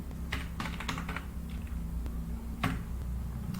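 Python code is typed on a computer keyboard in close, irregular bursts of key clicks over a constant low background hum.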